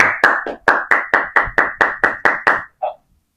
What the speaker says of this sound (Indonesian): Tepuk tangan dong. Tepuk tangan.